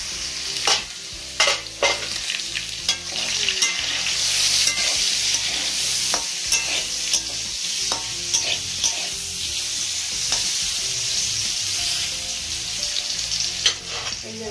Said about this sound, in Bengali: এই যে দেখো, পেঁপে ভাজা হচ্ছে